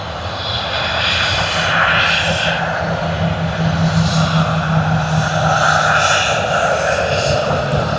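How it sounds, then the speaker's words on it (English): Airliner MH250 taxiing toward the runway at Sydney Airport after pushback, a steady, sustained engine roar and whine holding an even level throughout, with no voices. "We do see MH250 out there that has just pushed back and is going to be taxiing all the way to the runway"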